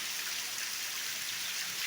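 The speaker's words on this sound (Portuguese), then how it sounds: "bastante chuva aqui ó, em Bom Jardim" Heavy rain falling in Bom Jardim, Pernambuco, after several days of rain, a steady, dense hiss of drops striking surfaces that holds without a break.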